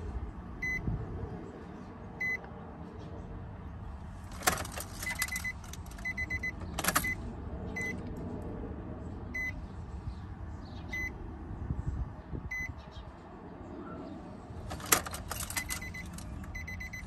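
Keys jangle in the ignition of a Nissan 350z-type car as it is switched on and off repeatedly, with recurring chimes and beeps from the dashboard over a low steady hum inside the cabin.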